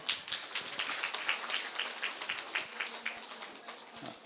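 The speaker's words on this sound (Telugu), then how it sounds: "సో మాధవవర్మ గారు గట్టిగా చప్పట్లు కొడదాం" An audience at a PMC event applauds Madhava Varma, a steady spread of many hands clapping that fills the room at moderate loudness, with scattered sharper claps standing out from the mass.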